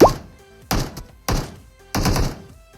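Gunfire from a bot in PUBG Mobile, heard as four sharp, heavy thumping shots spaced about half a second apart, loud and close, each one ringing out briefly.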